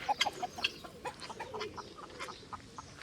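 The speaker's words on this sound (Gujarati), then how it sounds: "આ બધા કુકડા ના તેતર" Roosters and partridges clucking on a farm, a series of short, sharp calls and clucks close by, loudest at the start, then thinning into scattered calls over a quiet background without talk.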